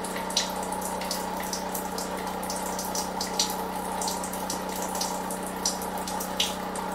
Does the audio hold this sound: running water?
yes